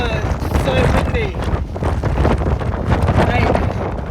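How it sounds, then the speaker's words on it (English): Strong wind battering the microphone on a hilltop in the Peak District, a continuous heavy rumble and buffeting with no quiet gaps. "I've hardly faced winds this bad."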